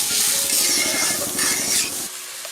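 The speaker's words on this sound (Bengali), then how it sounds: "নারকেলের দুধটা দিয়ে এবার আমরা ভালো করে আরেকটু নেড়ে নিচ্ছি" Duck eggs being stirred in coconut milk in a pan, a steady close scraping swirl with a light sizzle underneath for about two seconds before it cuts off.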